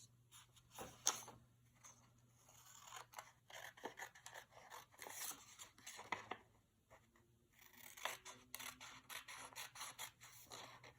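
Scissors cut through paper for an art project in a long series of crisp snips and rustling scrapes, with brief pauses as the paper is turned, close and fairly loud with no talking.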